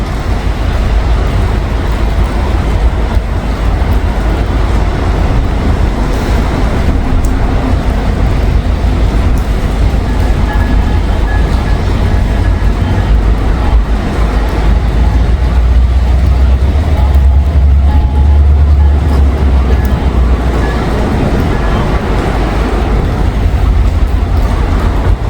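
A train switches railcars in Evendale on a snowy day, giving a loud, continuous low rumble that swells near the middle, mixed with passing road traffic. A voice is barely present.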